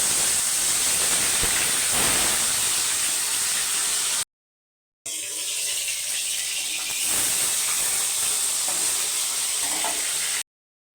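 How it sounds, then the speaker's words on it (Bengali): Tilapia rubbed with salt and turmeric frying in hot oil, a loud, continuous close-up sizzle and hiss that cuts out briefly and then resumes just as strongly. "গরম হয়ে গেছে, মাছ ছেড়ে দেবো।"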